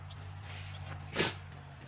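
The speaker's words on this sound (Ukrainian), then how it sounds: "Собака чхає." A dog in a garden gives a single short, sharp sneeze, a quick breathy burst that stands out over quiet outdoor background hum.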